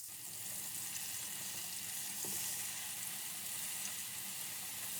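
Garlic ginger paste frying with lightly golden onions in a pan for chicken bhuna masala, a steady close sizzle running unbroken throughout with no talking.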